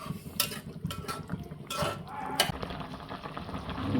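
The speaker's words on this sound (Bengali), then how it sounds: "তরকারিটা আমার এখনও হয় না, একটু নেড়ে চেড়ে দিই" Pangas fish curry with taro and eggplant stirred in a pot: a few scraping clinks of a spoon against the pot over a soft, steady simmering bubble, close and fairly quiet.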